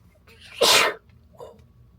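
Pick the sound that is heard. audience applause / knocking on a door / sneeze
sneeze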